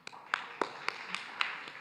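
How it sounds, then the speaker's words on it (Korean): A church youth congregation at a Sunday service claps in a short, light burst of separate, fairly quiet hand claps, fading quickly with no voices. "오, 박수."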